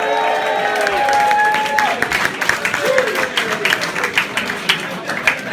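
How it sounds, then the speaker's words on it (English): A crowd gathered at the Burgon, a social club hosting a Labourfest event, claps and cheers in a dense, steady round of applause that tapers slightly toward the end, with voices calling out under the clapping. "let's start off by having a big round of applause for everybody at the Burgon"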